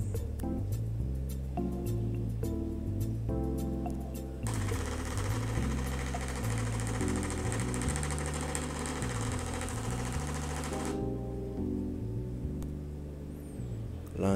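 An IWARE thermal printer prints a Shopee receipt with a buzzing, stepping mechanical whir, swelling into a louder continuous grinding rush in the middle before settling back to rhythmic motor pulses.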